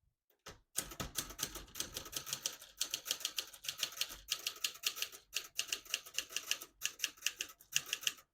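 Brisk, steady typing on a 1969 Adler Tippa S ultra-portable typewriter, close and clear: rapid clacking keystrokes in runs with brief pauses between words, and no talk.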